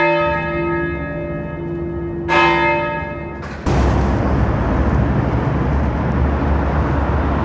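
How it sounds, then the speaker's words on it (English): A church bell rings out over a Glasgow street, with long sustained humming tones, a fresh strike partway through, then a sudden broad roar of street noise that swamps the fading ring. "I can hear a bell ringing."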